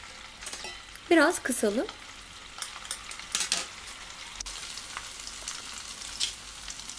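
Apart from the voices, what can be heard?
potato köfte frying in a pan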